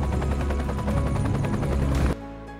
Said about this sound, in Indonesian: tiba-tiba helikopter datang untuk menjemput Nora